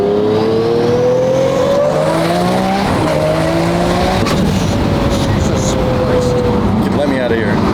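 A tuned twin-turbo V12 Lamborghini SV engine screams through rising, shifting revs up close, loud and continuous, with excited voices talking over it.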